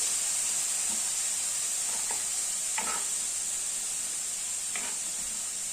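Chicken pieces sizzling in a frying pan, with a constant close hiss and a few soft scrapes and clinks of stirring spread across the stretch.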